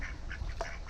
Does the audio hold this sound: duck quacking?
yes